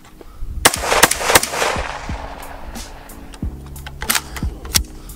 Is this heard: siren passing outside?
no